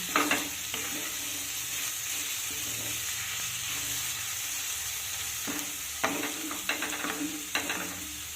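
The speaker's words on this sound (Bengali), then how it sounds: "আমি খোলা অবস্থায় আরও এক মিনিট মতো রান্না করে নিচ্ছি" Bathua (beto) greens stir-fry in an open pan with a constant hiss of sizzling oil, punctuated by intermittent scraping stirs and clatters, close up and without talk.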